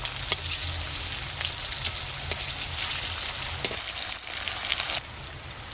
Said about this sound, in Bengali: আমার পেঁয়াজ ভাজাটা হয়ে গেছে